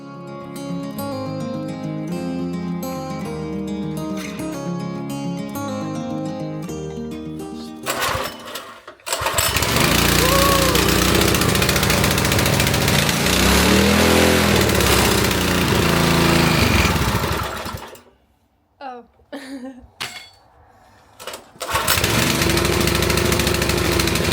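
A small petrol engine runs with a loud, rattling, buzzing drone, stuttering and cutting out briefly before picking back up.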